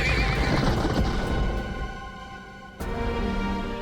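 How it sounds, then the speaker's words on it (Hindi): Horses in a Hindi TV drama scene neigh loudly and close with shuffling hooves, a dense whinny that fades briefly before another sharp cry, with no talk over it. "महाराज घोड़े तैयार हैं।"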